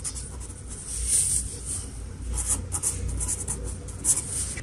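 Pen scratches and scribbles close by on a surface while a math olympiad geometry solution is written out, short strokes in an irregular rhythm with no talking.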